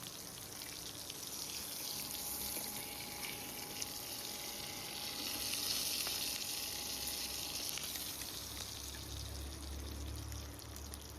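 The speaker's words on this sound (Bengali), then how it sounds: "ইলিশ মাছ ভাজায় কিন্তু বন্ধুরা একটু কাঁচা লঙ্কা ভাজা হবে, কাঁচা কাঁচা করে" Green chilies frying in hot oil left from frying hilsa fish, a soft, steady sizzle and crackle that runs evenly the whole time with no voices.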